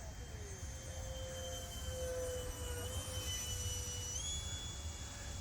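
A Sky Flight Hobby F-22 foam RC jet makes a low, slow pass, its electric ducted fan giving a steady high-pitched whine that shifts in pitch as it goes by, over wind and hiss.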